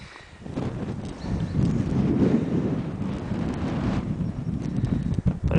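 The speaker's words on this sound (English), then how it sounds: "It's rather windy up here." Wind buffets the microphone on top of a German bunker on the coast facing Fanø island, a steady, loud roar and rumble lasting throughout with no talk.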